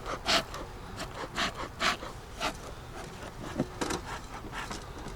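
Honey bees buzzing around an opened double-deep five-frame hive on a damp day, a steady close hum with swelling passes as bees fly near, no talking.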